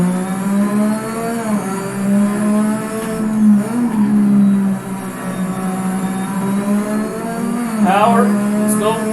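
Ferrari SF70H Formula One car in the racing game Assetto Corsa, a loud, high engine note rising and falling through gear changes, with brief tire squeal.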